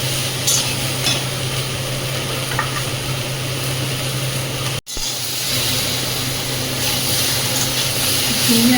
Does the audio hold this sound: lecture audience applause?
no